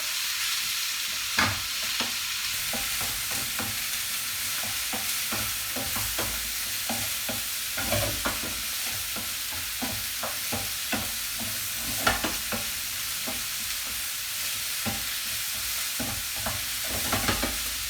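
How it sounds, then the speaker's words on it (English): Food cooking in a pan seasoned with black pepper and salt is stirred repeatedly, with a rhythmic series of spatula scrapes and taps over a steady gentle sizzle, close and clear, with no talking. "Give it a stir."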